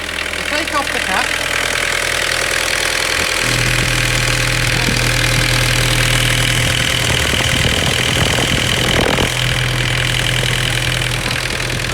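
Engine of a 1993 Vauxhall Carlton idling steadily, a loud close rumble with a low hum that shifts pitch slightly partway through, along with some mechanical clatter and handling noise.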